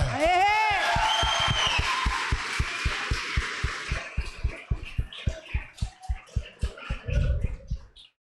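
A church congregation at an evening service claps in steady rhythmic unison after opening with cheers and whoops, the sharp even claps carrying on for several seconds before trailing off.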